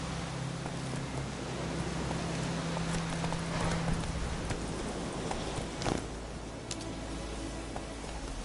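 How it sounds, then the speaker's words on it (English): Horse hooves clip-clop steadily in the Witcher 3: Wild Hunt video game, a quiet walking rhythm under a low game ambience with a brief sharper knock near the end. "Come on. Whoa there, Roach."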